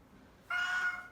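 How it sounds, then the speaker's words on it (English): A cat lets out a single short, nasal, honking meow close by, abrupt and lasting under a second against a quiet room. "It's a honking cat."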